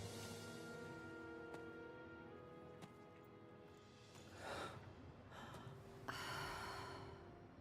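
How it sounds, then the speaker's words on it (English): A character in the video game The Division 2 breathes heavily, with faint repeated exhales and gasps over a low game ambience, quiet throughout. "There's a lot of breathing."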